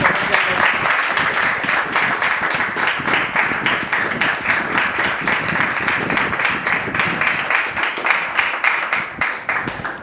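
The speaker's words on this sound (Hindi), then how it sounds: "जोरदार ताली" Steady, enthusiastic applause from a large theatre audience after a stage play, dense continuous clapping that holds at full strength for about ten seconds.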